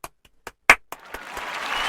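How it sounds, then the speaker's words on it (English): A single sharp hand clap rings out loud and close, preceded by a few softer taps, then fades into a low hiss of room noise. "here, single clap."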